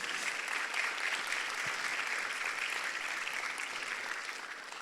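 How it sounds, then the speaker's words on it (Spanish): Congregation applauding inside a church, a soft, distant, even patter of many hands that keeps going for several seconds and tapers slightly at the end. "Un aplauso a ellos, por favor."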